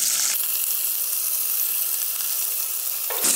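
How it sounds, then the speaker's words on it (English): Chopped onions drop into hot oil in a kadhai, setting off a sudden loud, dense sizzle that holds steady for about three seconds before fading. "At this stage, we'll add chopped onions"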